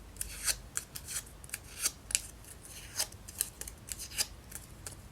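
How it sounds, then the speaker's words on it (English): A bone folder curls paper flowers from a craft kit, making a series of crisp, scratchy paper strokes in an uneven rhythm close to the mic, with no talking. "Then we're going to use our bone folder."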